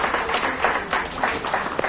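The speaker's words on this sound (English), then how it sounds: "Round of applause for our speakers." An audience at a jewellery e-commerce launch event claps for the speakers, a loud, brief burst of applause with faint voices mixed in underneath.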